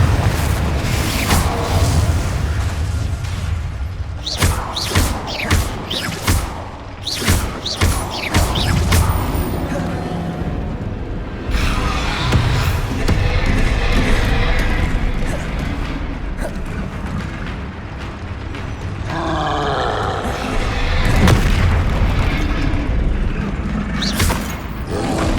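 Confringo and Bombarda spell blasts in the Hogwarts Legacy video game, a dense run of loud booming impacts, crashes and rumbling debris, with quick bursts of repeated blasts mixed into a heavy continuous soundscape.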